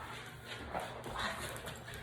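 Several dogs shuffle and move around close to a workout mat during an at-home leg workout, a steady low rustle with a faint whimper and a few soft bumps and no talking.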